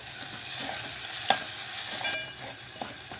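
A paste of green chili, garlic and cumin fries with sautéed tomato in a pan for mixed dal varan. It gives a steady soft sizzle, broken by a few sharp clinks and scrapes of a stirring spoon.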